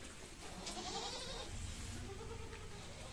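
Goats on a farm bleat during the rainy season while being wiped down, a few close, moderately loud calls over steady background noise.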